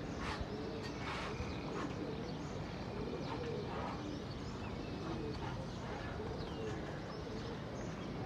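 Pigeons coo in a series of soft, low, repeated calls at an outdoor rooftop pigeon-flying gathering, with steady background noise and some chirps throughout.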